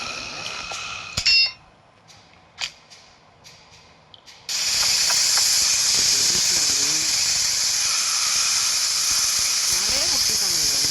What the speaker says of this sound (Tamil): நம்ம அதுக்குள்ளே பிளாஸ்மா கன்று ரீஃபில் பண்ணி வச்சுக்கோம்